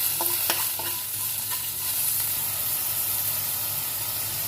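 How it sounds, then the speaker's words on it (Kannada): Mustard seeds, chana dal and curry leaves fry in hot oil for a tomato curry tempering, with a steady sizzle and hiss, a few sharp pops and spoon stirring early on, heard close without talk. "ಸ್ವಲ್ಪ ಫ್ರೈ ಮಾಡ್ಕೊಳ್ಳಿ ಫ್ರೆಂಡ್ಸ್"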